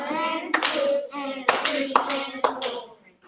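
A person claps out an eighth-note rhythm by hand: sharp, close claps in paired groups with clear gaps between them, spoken counting in between.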